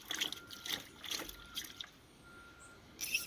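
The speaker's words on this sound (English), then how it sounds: "Put that much water in there, you know." Water trickling and splashing into a cooking pot outdoors, a few short faint pours and drips with quiet gaps between.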